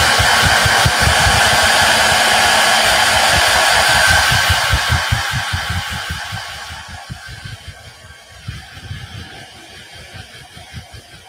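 A heat tool blows over wet paint on a stencil, a loud, close, steady whoosh with an underlying motor buzz that softens and fades midway, leaving faint rumbling.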